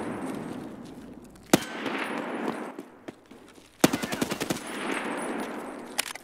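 Gunfire in the video game Escape From Tarkov: a single loud shot, then a rapid burst of about seven close, sharp rounds and a final shot, each trailing into a rumbling echo.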